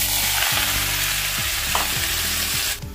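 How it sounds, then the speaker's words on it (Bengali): Potato curry fries with a black cumin tempering, a loud, dense, continuous sizzle with periodic stirring scrapes that drops sharply near the end. "কালো জিরে ফোড়ন দিয়ে একটু আলুর তরকারি রান্না করছি।"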